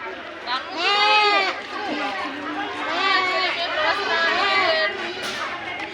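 Several goats bleat in repeated wavering cries at a rural government livestock distribution event, close and loud, overlapping with people chattering in the background.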